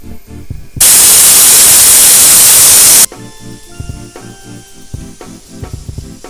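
Pressure cooker whistle on a stovetop cooker of beef and tapioca, a loud steady hissing jet of steam that bursts in, holds for about two seconds, then cuts off, leaving quieter kitchen clatter and knocks.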